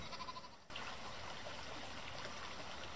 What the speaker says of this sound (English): All I can hear is the sound of the little river